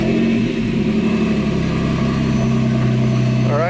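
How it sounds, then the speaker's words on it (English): Porsche 911 engine running steadily with the air conditioning blowing on full, a loud continuous mechanical hum and blower roar close by, with no talking. "we got the engine on, AC on full blast"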